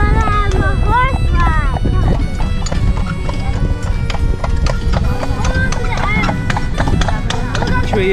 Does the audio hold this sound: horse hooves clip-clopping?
yes